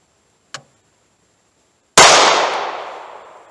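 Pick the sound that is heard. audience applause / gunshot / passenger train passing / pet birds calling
gunshot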